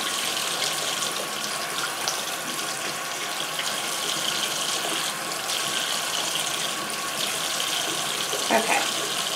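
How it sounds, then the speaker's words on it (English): Tap water runs steadily into a sink while makeup brushes are washed, a constant hissing splash at moderate level with no break. "So I'll turn the water off now"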